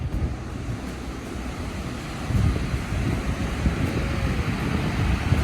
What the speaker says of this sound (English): Melody and I came over to Coronado to the Silver Strand State Beach